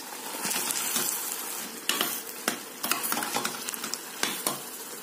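Half a kilo of minced meat frying with onion in oil for macaroni béchamel, a steady close sizzle broken by repeated scraping stirs of a utensil against the pan, with no voices.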